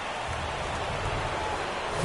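Rain pours during a rain delay in a baseball video game, a dense, even hiss of falling drops that holds steady at a moderate level with no talking.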